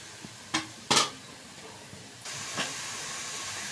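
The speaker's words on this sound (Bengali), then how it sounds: "আনারসটা দিয়ে দিলাম, এতে সামান্য নুন দেব আর সিদ্ধ করব।" A pot of pineapple pieces with a little salt is set on to boil. Two sharp hissing bursts and a faint clink are followed by a steady, quiet steam hiss.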